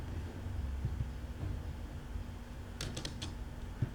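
Keys tapped on a computer keyboard, faint scattered clicks over a quiet hum, ending in a quick burst of several sharp keystrokes that includes the enter press.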